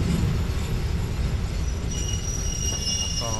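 Ordinary train 259 pulls into Salaya station with a steady rumble of wheels on rail and thin, high squeals from the wheels rising near the end, heard close from aboard and without talk.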